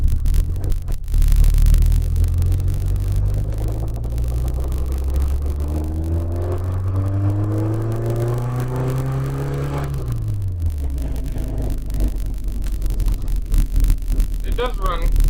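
A 1992 Nissan 240SX engine with rod knock runs and revs nearby, its pitch rising and then falling across the clip, with a rough rumbling texture and some talk over it.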